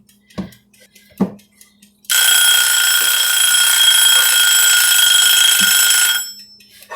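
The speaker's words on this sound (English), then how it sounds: "My timer likes to alert me a little bit before the time is actually up" A kitchen timer goes off early, ringing as a loud, shrill, unbroken electronic beep for about four seconds after a few light kitchen knocks and clatters, then cutting off.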